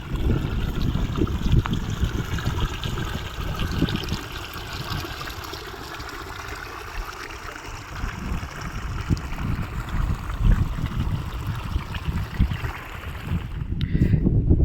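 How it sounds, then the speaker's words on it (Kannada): Water rushes and gurgles continuously through shallow paddy field channels near the source of the Malaprabha River, a steady close flowing sound with no talking. "ಎಲ್ಲವೂ ನೀರು ಹರಿದು ಹರಿದು ಹೋಗ್ತಾ ಇದೆ"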